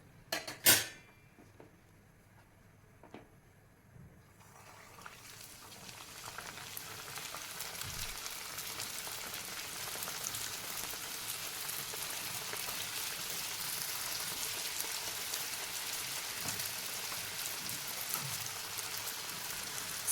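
Kajjikaya dumplings sizzle in hot oil, a steady, dense crackling hiss that swells after a few quiet seconds and then holds loud and even, with faint clinks at the start.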